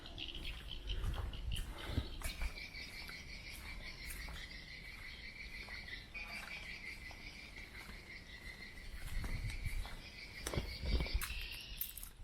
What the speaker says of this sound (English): You can just hear the birds and the animals